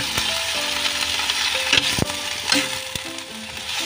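Food stirred in a frying pan some twenty years old, with scraping utensil clicks and scrapes over a steady sizzle, close and continuous.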